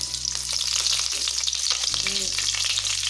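Onions fry in hot oil with bay leaves, a loud, dense sizzle close by, marked by stirring scrapes and a brief clink near the end, with no one speaking.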